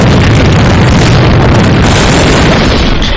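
A grenade detonates in the online shooter A.V.A, a very loud, close, roaring blast that fills the whole moment with dense rumbling noise.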